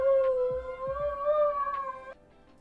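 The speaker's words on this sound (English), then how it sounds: "It's my dog" A dog howls in a long, wavering, sustained tone close to the microphone, with a few soft thumps underneath, and the howl cuts off near the end leaving low background hum.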